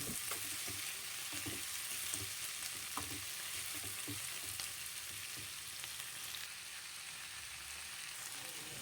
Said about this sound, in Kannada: ಟೊಮೊಟೊನ ಸ್ವಲ್ಪ ಸಾಫ್ಟ್ ಆಗೋವರೆಗೂ ಫ್ರೈ ಮಾಡ್ಕೊಳ್ಳೋಣ.